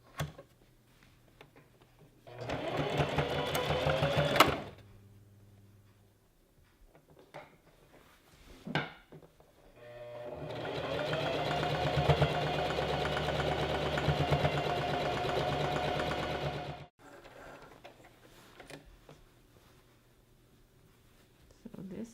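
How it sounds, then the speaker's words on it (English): A sewing machine stitches a straight seam down fabric for a gathered maxi dress, running in two bursts, a short one and then a longer steady run, with quiet pauses between. "I'm going to sew as best I can along the same line all the way down"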